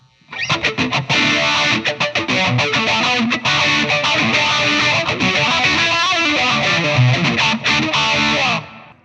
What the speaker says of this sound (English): Let's click on the phaser. Let's hear that.